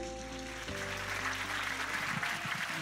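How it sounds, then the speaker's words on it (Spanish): Audience applause welcoming two speakers, moderately faint clapping under steady music with sustained tones and a melodic line. "Recibimos con un fuerte aplauso a Ruth y a Nuria."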